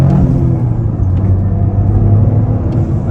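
A 2023 Toyota GR Corolla accelerates hard in second gear on a test drive, its turbocharged engine giving a loud, steady rumbling drone from inside the cabin with no talking.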